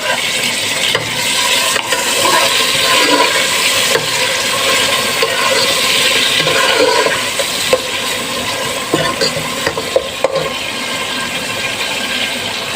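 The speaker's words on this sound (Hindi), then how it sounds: "यहाँ मैं अब डालूंगी टमाटर जो हमने छोटे स्लाइस में काट के रखे थे, हरी मिर्चें" Chopped tomatoes and green chillies are stirred into onions frying in oil for a potato curry, giving a loud, continuous sizzle and hiss with occasional scraping clicks from the spoon.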